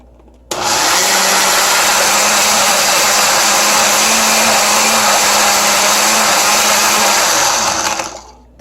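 Blender running on its smoothie setting, crushing ice with summer berries into a smoothie: a loud, steady high-pitched motor whir that starts abruptly, holds for about eight seconds, then cuts off.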